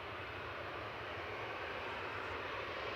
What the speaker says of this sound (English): first departure on 23 left is Jet2 Flight 941 across to Girona